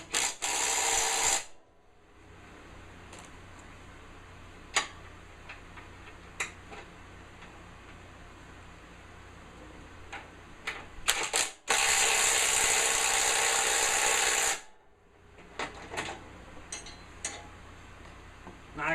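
A hand ratchet clicks steadily while tightening a bolt on a Sears 10XL garden tractor, close and crisp, broken by two longer bursts of broadband mechanical noise.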